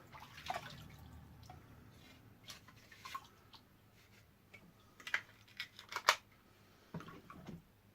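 An aquarium filter sponge from an axolotl tank is squeezed and rubbed by hand, giving faint wet squelches and a scattering of small water drips and splashes, quiet and close, with brief louder drops toward the end.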